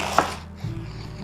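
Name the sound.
knife chopping cabbage quarters into strips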